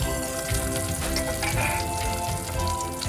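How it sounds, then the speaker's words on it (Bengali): Pieces of tilapia rubbed with salt and turmeric fry in hot oil in a wok, giving a loud, dense, continuous crackling sizzle close by. "প্রথমে কড়াই তেল গরম করে তার মধ্যে নুন হলুদ মাখিয়ে রাখা মাছগুলো একে একে ভেজে নিচ্ছি।"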